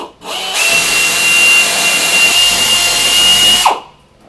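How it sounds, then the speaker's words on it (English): A power drill bores 13/64 holes through a portable toilet's plastic vent stack, one steady high whine lasting about three seconds before it abruptly stops, loud and close with no talking. "Somebody on the inside can drill the 13/64 holes directly centered on that rib in the open area."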